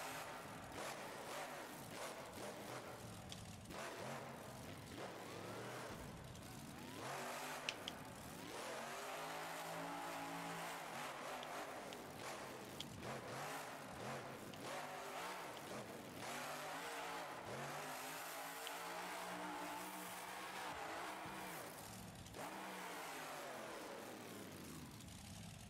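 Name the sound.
car engine revving in BeamNG.Drive video game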